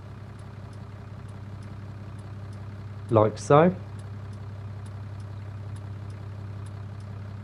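A tractor in a farming video game idles with a steady low rumble throughout, while someone speaks briefly over it.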